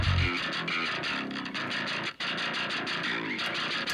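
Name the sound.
Neural DSP plugin mid distortion on guitar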